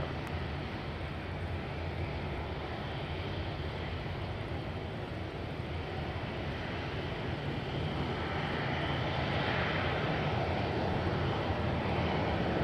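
Fixed-wing airplane taking off at Madeira Island Airport, a loud, steady broadband engine roar that fills the whole clip and swells slightly toward the end, with no talk over it.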